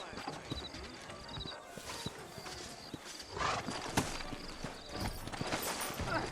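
Horses in a video game set in New Austin, with busy overlapping hoof clip-clops trotting nearby and brief snorts or whinnies mixed into the rhythmic footfalls.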